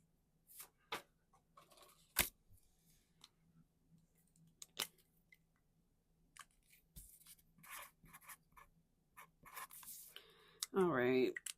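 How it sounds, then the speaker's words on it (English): Handwritten notes being jotted down, a faint scratchy pen-on-paper rustle with scattered taps and clicks, and a voice speaking briefly near the end. "Let me write down this."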